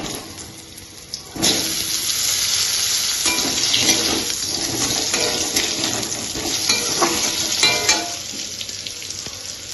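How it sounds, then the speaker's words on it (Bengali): Potatoes with cumin seeds sizzling in leftover fish-frying oil: a quieter hiss, then a sudden loud burst of crackling as they hit the pan, continuing as a dense, steady sizzle with occasional stirring scrapes. "মাছ ভাজার তেলের মধ্যে সামান্য জিরে দিয়ে আলুগুলো ভেজে নেবো"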